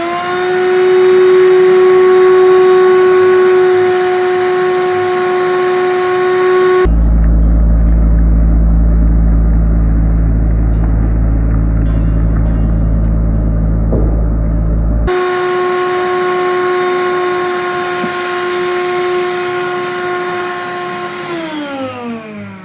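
A RIDGID 18V cordless wet/dry vac with a brush attachment runs loud and close, a steady whining motor drone that shifts to a deeper rumble midway, then returns to the higher whine and winds down.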